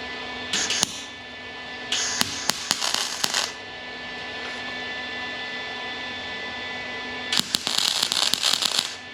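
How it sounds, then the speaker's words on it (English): Tack welding on a steel floor pan patch of a Range Rover Classic: three separate bursts of harsh crackling buzz, each lasting about a second or two, close by, with quiet hum between them. "Welding."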